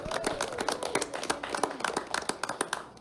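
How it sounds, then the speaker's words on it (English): Applause from a small audience at a poker final table, a scattered patter of individual hand claps of moderate loudness that carries on steadily for several seconds. "Please give a round of applause to Dickie,"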